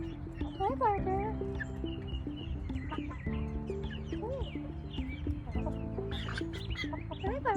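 A pet chicken clucks in a series of short calls close by, with a person's voice and some background noise mixed in.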